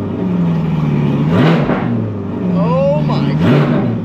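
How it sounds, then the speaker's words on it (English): A C8 Corvette's engine, still cold, revs twice in short blips, rising and falling over a steady idle rumble, loud and nearby. "I'll give y'all a little few baby revs"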